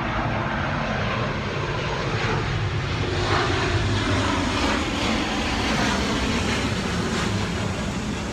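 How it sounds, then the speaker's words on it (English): A fixed-wing airplane passing overhead near an airport, a loud steady engine roar that holds throughout without fading, with no voices. "I literally live 10 minutes from an airport, so every like 10 minutes they're flying over"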